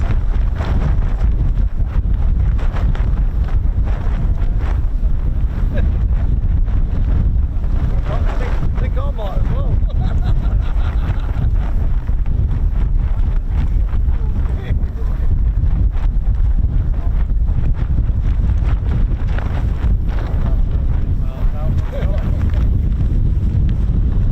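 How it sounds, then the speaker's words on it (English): Strong wind buffets the microphone outdoors at an air weapons range, a constant loud roar and rumble that runs through the whole stretch with no letup. "I'm a bit worried about this wind actually."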